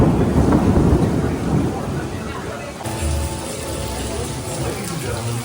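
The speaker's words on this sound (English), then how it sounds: "So now here comes the storm." Thunderstorm at Busch Gardens amusement park, a loud continuous wash of heavy rain with deep rumbling thunder rolling through, and voices audible beneath it.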